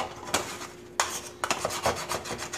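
A metal spoon scrapes baked-on gunk from a stove drip pan, giving several short, close rasping strokes in irregular bursts, with no talking.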